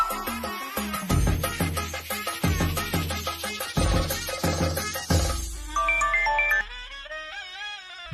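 An electronic ringtone melody plays loudly on a phone during a call, a bright repeating tune of sharp notes that fills about eight seconds with no voices over it.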